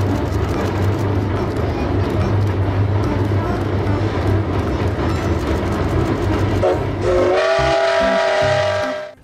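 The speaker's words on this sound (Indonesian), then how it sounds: "ada kereta api" A toy train gives out a loud, close rumbling rail clatter that runs steadily, then a sustained horn blast sounds near the end.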